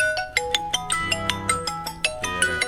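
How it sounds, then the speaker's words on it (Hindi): A mobile phone rings for an incoming call, a loud, bright melodic ringtone with quick repeating plucked notes in a steady rhythm, close by and with no voices over it. "फ़ोन आ रहा है, मैं इसको ऑफ कर रहा हूँ।"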